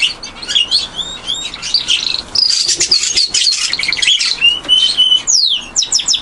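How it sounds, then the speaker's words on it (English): Pet budgies chirp and tweet in a snowy outdoor aviary, a dense, continuous chatter of high, bright calls from several birds at once, steady and fairly loud with no talking. "My Budgies making a bit of a noise over there."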